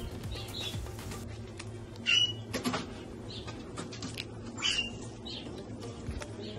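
Birds in an open-market shop selling bird and pet food, soft chirps and coos with occasional brief flutters, faint and intermittent over a low background hum.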